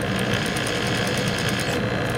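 A sewing machine runs steadily through a single diagonal stitch while curves are sewn, a continuous close mechanical whir with no talking.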